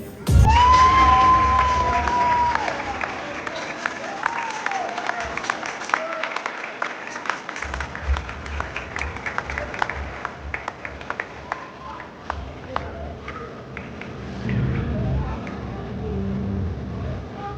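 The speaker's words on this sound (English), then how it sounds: "Round of applause for Edward." At a youth football club awards ceremony, a crowd of families cheers, whoops and claps; an opening shout and cheer give way to sustained scattered applause with children's voices and chatter mixed in, swelling again near the end.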